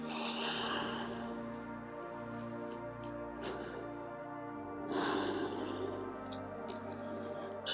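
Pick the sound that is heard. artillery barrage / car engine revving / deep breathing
deep breathing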